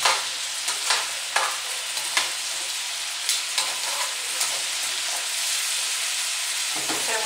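Crab legs fry in butter with a steady, close hiss of sizzling, broken by scattered pops and crackles throughout, and no voices.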